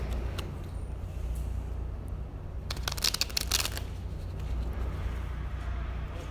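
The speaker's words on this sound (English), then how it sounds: "I'm just going to shuffle it up a little bit" Deck of playing cards being shuffled, a brief riffle of crisp flutters mid-clip over steady low room rumble, with no talking.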